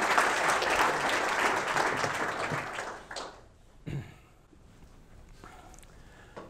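At a financial seminar, a crowd claps in a full, dense burst of applause that fades after about three seconds, leaving a few scattered claps and thuds in a quieter room.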